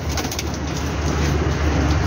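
Pigeons coo loudly and close by in a continuous, layered chorus of low, throaty warbling calls with a steady background hum.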